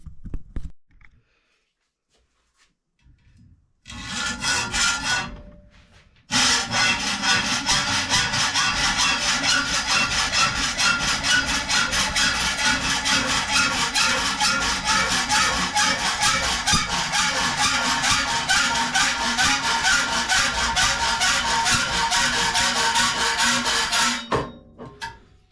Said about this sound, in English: We will use the hacksaw to cut it